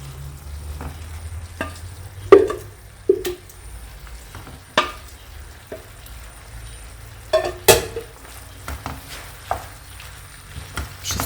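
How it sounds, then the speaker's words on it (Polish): Tagliatelle and bacon stirred together in a frying pan, with soft sizzling underneath and scattered scrapes and clinks of the utensil against the pan at irregular intervals, close and moderately loud. "Wszystko razem mieszam"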